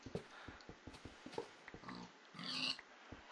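A Minecraft pig oinks and snorts in short grunting bursts, close by and repeated at an uneven rhythm. A louder, longer rustle or snort comes near the end, with no talking.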